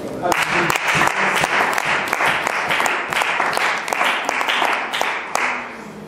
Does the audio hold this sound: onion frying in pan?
no